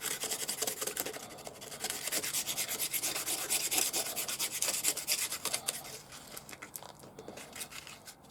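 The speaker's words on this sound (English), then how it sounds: "I might give that one more little sand quickly" Hand sanding of a small bushcraft knife: a close, steady run of rapid rasping back-and-forth strokes that continues throughout with no speech.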